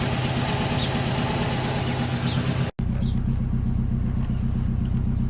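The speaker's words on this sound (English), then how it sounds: "I hit the rev limiter" A Honda S2000 engine drones steadily and loudly close by at high revs, with a brief dropout partway through before the steady buzzing note resumes.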